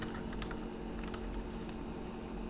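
A password being typed on a computer keyboard, a quick close run of light key clicks in irregular bursts over a faint steady background hum.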